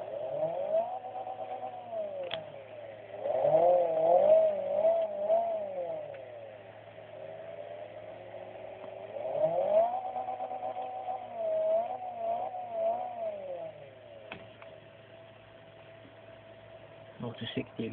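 Honda CRX engine in Forza 2 revving in smooth rising and falling sweeps, with several climbs through the gears separated by easing off. A steady low hum sits underneath and the engine carries on alone without talk.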